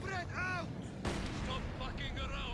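Artillery barrage in the strategy game Company of Heroes 2, a sharp heavy blast near the middle breaking through continuous battle noise, with whistling shell tones before it and scattered impacts after, all under a busy game soundscape.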